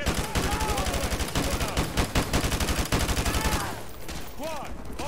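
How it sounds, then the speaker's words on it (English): Dense, rapid gunfire in a firefight from Call of Duty: Modern Warfare 2 Remastered, rattling bursts of automatic weapons with loud close shots layered over distant fire, easing slightly near the end. "We're taking heavy fire from the school."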